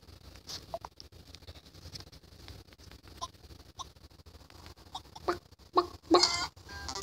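The Festive Chicken character in the mobile game Crossy Road gives short, scattered clucks over faint game ambience. The clucks come sparsely at first, then bunch together near the end.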